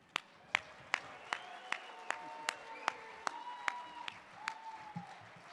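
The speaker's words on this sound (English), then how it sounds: "I have one more round of applause, and that's for you as an audience" At a mining hall of fame induction ceremony, the audience applauds as a sparse, evenly paced run of about a dozen crisp, distinct claps, fairly quiet and echoing in a large room.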